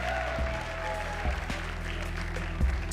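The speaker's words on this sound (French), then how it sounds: "On peut les applaudir pendant ce temps-là." An audience at a student stage show claps steadily in sustained applause, a dense wash of hands throughout with no voices standing out.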